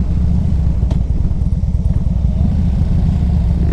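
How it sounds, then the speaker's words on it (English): A 2003 Harley-Davidson Electra Glide with a 1450 engine rumbles steadily while being ridden, a loud, close, continuous low throb with fast pulsing and faint wind noise. "This is, I believe, is the 1450 motor."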